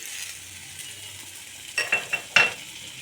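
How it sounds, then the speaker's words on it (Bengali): Onion and garlic paste goes into a pan of frying onions, and a few sharp clacks and sizzling bursts rise over a quiet background hiss in the second half. "পেঁয়াজ ভাজা হয়ে গেছে। এবার দিয়ে দেব পেঁয়াজ রসুন পেস্ট।"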